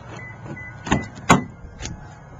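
A used Toyota Tundra 4x4 pickup's door being opened, a few quick clicks and a firmer latch clunk heard close up over a quiet background.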